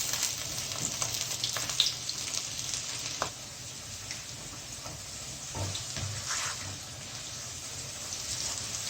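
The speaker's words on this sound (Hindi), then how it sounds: "ये एक मेरे पास प्याज है, इसको फ्राई कर लेते हैं, अच्छी तरह फ्राई करते हैं।" Onions frying in a pan for a desi saag dish, a steady broadband sizzle running throughout with a few soft clinks and stirring bumps, close and moderately loud, no talking.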